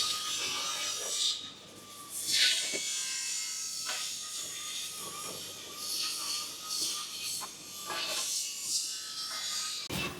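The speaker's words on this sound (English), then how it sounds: "here is the automatic polishing process" An automatic polishing machine in a die casting workshop gives a steady, rough grinding and rubbing hiss throughout, with brief louder scrapes and swells over continuous machine noise.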